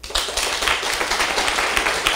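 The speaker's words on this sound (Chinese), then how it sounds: "今天来拍手" Attendees at a lecture class clap together in a dense, sustained burst of fairly loud, close hand claps, with no voices.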